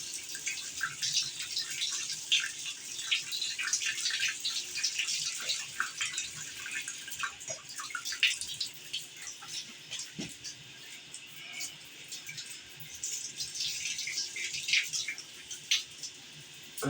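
Hot water gushing steadily from the tap of a multipoint water heater, a continuous hissing splash with small drips and flickers, moderately close, with no talking.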